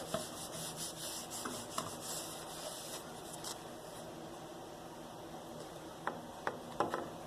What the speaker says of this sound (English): Nice damp rag to take that excess off.